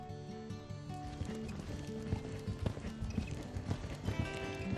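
Véloce, a Portuguese horse, clip-clops across the stage of an equestrian show at Rocamadour. The hoofbeats are fairly faint, uneven and repeated, and a soft, sustained musical tone runs underneath.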